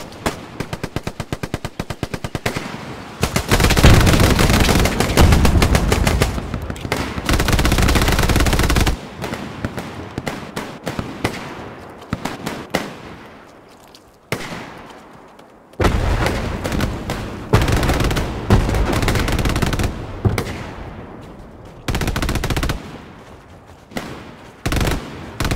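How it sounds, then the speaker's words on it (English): Heavy gunfire and tank cannon fire in the World War II shooter Hell Let Loose at Hill 400, with dense bursts of machine-gun fire and loud booming shots rolling on and off with brief lulls. "There's definitely a tank shooting."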